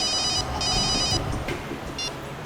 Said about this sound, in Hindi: सर, अभिजीत सर का फोन था